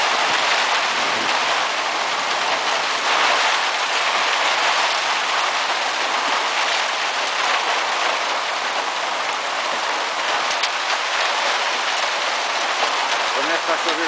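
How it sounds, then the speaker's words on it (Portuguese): Hail pelting down in a storm in Sertãozinho, São Paulo, Brazil, a dense, steady hiss of countless impacts that stays loud and even throughout. "Começa a chover pedra aqui no Sertãozinho"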